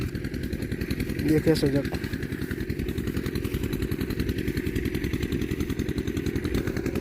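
An irrigation water pump engine runs continuously beside a rice paddy, a loud, even, throbbing idle that is close and steady throughout, with someone briefly speaking over it.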